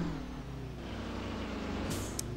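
A truck engine in Grand Truck Simulator 2 rumbles steadily and slowly rises in pitch as it pulls away, with a short hiss near the end, loud and alone with no talk.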